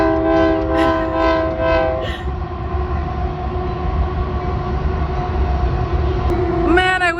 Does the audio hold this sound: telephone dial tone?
no